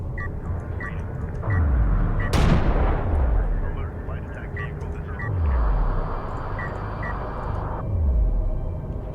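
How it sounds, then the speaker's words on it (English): Railguns fire in Homeworld: Deserts of Kharak: a sharp, loud blast with a long decaying tail, among repeated descending mechanical sweeps and steady battle rumble, under a caster's commentary. "Railgun online."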